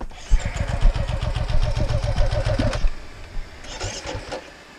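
A motorcycle engine sputters to life with rapid, rough firing pulses for a few seconds, then cuts out, leaving quieter mechanical rattles.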